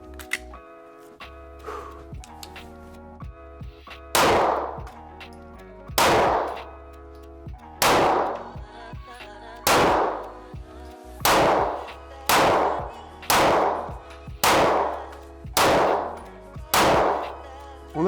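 Glock 45 pistol shots at an indoor shooting range: about ten sharp, loud reports fired at a slow, fairly even pace, each followed by a short ringing decay, with faint quieter sounds between them.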